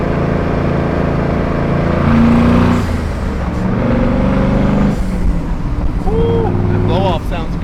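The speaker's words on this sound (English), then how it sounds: "Blow off sounds good." A twin-turbo junkyard LS 5.3 V8 revs loudly nearby, turbos whining and blow-off valves hissing and chirping between throttle blips, with voices shouting over the engine.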